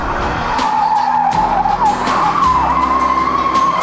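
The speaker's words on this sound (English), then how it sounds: "A skid pad where expert Holden drivers evaluate braking," A Holden car skids on a skid pad under hard braking, its tires giving a sustained, loud squeal that wavers in pitch over a low engine drone, with no voices.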